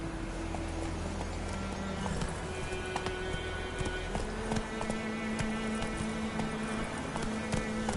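Roach the horse gallops in The Witcher 3, with a steady, close rhythm of hoofbeats over a sustained musical drone and ambient game sound.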